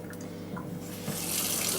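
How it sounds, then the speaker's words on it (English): Water runs from a spray gun's flow tube into a sink during routine cleaning, a steady close splashing hiss that grows slightly louder toward the end. "allow the water to run through the tube whilst you're pumping back the gun"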